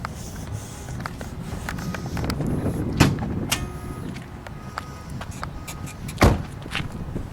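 The hood of a yellow 1989 Chrysler TC by Maserati is opened outdoors, with a few sharp metallic clunks and latch clicks, one loud knock near the start and another near the end, over low background rumble.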